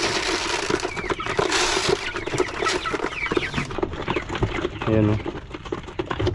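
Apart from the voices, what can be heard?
chickens clucking while pecking at feed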